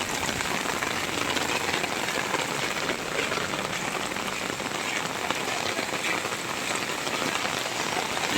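Heavy rain of the rainy season pours steadily on surfaces in Hemayetpur, a dense, constant hiss of drops throughout, loud and close with no voices.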